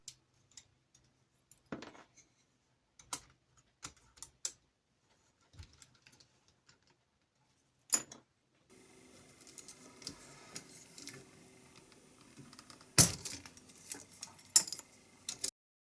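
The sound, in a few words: removing keycaps from Tandy 200 keyboard with keycap puller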